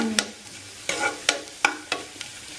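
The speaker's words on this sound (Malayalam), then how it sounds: "കിസ്മിസും എള്ളും ഇതിലിട്ട് മൂപ്പിക്കാം" Cashews, raisins and sesame seeds frying in a pan for wheat payasam, with a spoon stirring in about six distinct scraping strokes over a faint sizzle, close and alone with no voices.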